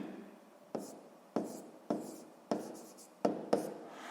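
A pen writes out a math solution by hand on paper, nearby and quiet: a row of six or seven short scratchy strokes spaced about half a second to a second apart, with no talking.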